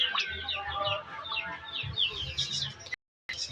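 A fighting rooster clucks and calls amid a lively flock of chickens, with repeated bird vocalizations close by, a brief silent gap near the end, then the noise resumes.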